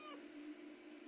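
A house cat meows at close range in a quiet indoor room during a repair of a Xerox WorkCentre 6015 printer: one short, fairly faint cry at the start, then a steady low hum from equipment.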